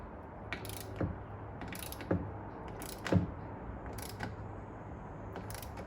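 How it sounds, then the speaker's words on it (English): A ratcheting torque wrench tightens bolts, giving a crisp mechanical ratchet rattle in short bursts about once a second, each pull ending in a sharper click, close and clear with no talking. "I feel that one's going to torque up all right."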